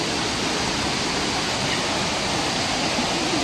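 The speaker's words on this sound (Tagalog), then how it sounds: "Ang Lactas Falls. Ito na nasa pinakababa." Laktas Falls in Dingalan, Aurora, heard from the lowest pool as a loud, steady, broadband roar of falling water, constant and close with no voices.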